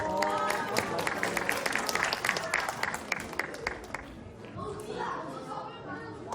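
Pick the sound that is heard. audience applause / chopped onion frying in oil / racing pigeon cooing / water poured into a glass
audience applause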